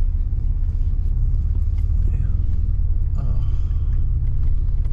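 Buick Grand National engine running steadily, a loud, continuous low rumble heard from nearby, with faint voices underneath.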